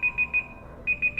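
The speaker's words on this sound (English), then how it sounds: "Yep, that's the alarm for the game." A high electronic beeping alarm from a small game jam video game, three quick beeps, a brief pause, then three more, bright and repetitive with nothing else around it.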